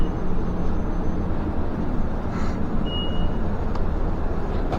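A bus fare box gives a short electronic beep over a steady rumbling engine drone, with faint clicks and rattles inside the running bus.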